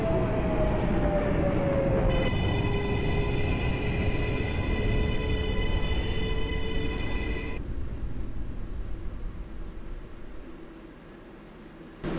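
An R142A subway train on the 6 local line runs in the OpenBVE train simulator game, giving a continuous loud rumble with a high tonal motor whine that cuts out partway through as the noise gradually eases.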